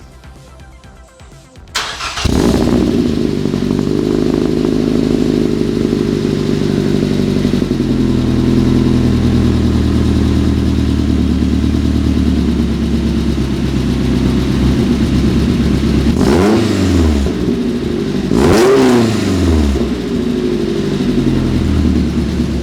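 A Mazda NC Miata with a Racing Beat midpipe exhaust cranks and fires up, then idles loud and steady with a deep exhaust rumble and a couple of sharp revs near the end.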